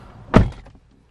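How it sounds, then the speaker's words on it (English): A 9th gen Honda Civic Si car door shuts with a single close, loud thunk, followed by a brief fade into quiet. "Let's close the door."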